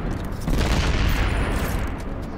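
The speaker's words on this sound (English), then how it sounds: "That was a very small explosion for some reason." A tank blows up in the video game Destiny 2, giving a short, muffled burst of booming blasts and crackle that fills about two seconds.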